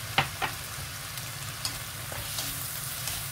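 Fried instant noodles seasoned with soy sauce, ground pepper and chicken spice blend are stirred in a pan, with a steady quiet sizzle broken by a few sharp scrapes and taps of the utensil, without any speech.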